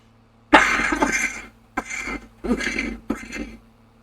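A woman on a New Zealand farm coughs hard in several close bursts, one long harsh fit followed by three shorter coughs with brief pauses between them, over a low steady hum in the background.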